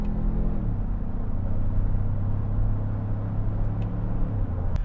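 A 2017 Ford Explorer Sport with the EcoBoost turbocharged engine pulls under acceleration, giving a steady low cabin drone whose pitch drops after a gear change and then holds. The sound is moderately quiet and even, with no speech.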